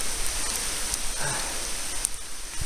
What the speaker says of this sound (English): Raining away, just had to make a diversion.